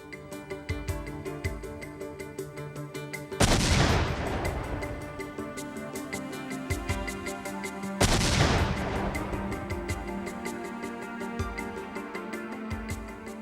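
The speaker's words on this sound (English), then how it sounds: "Specialists recreated and detonated the bombs." Recreated pipe bombs detonated by specialists, heard as two loud explosive blasts about four and a half seconds apart, each with a long rumbling decay, over a steady musical bed.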